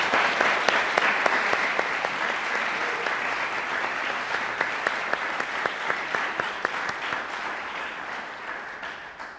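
Audience applause for student award recipients at a university School of Music awards day, steady dense clapping from a sizable crowd that holds for several seconds and gently tapers.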